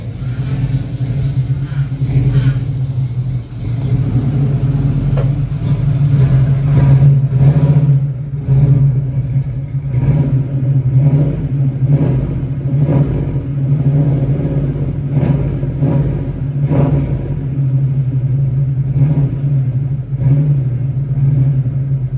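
A car engine rumbles loudly and revs repeatedly, the deep throaty growl rising and falling in bursts throughout.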